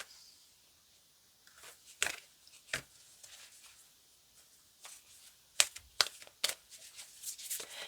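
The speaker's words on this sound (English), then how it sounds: "Let me cut this deck." A deck of cards being cut and shuffled, with soft scattered riffles and snaps that grow into several sharp, close card flicks near the end, in an otherwise quiet room.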